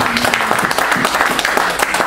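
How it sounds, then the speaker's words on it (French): A church congregation claps loudly and close, a dense burst of many hands that keeps going for about two seconds, with faint voices mixed in. "On acclame très fort pour la parole de Dieu."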